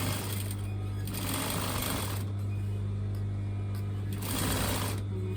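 A sewing machine runs in quick bursts down a straight skirt seam, with a brief stop and restart, close and steady over a constant low electrical hum.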